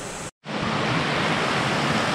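Steady, loud rushing roar of a waterfall, broad and continuous, briefly cut off near the start before resuming without break; no talking.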